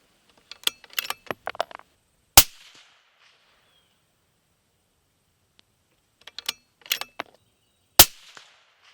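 6.5 Creedmoor rifle shots at 100 yards: two sharp, loud single reports several seconds apart, each preceded by clicks and metallic handling of the rifle, with near silence between.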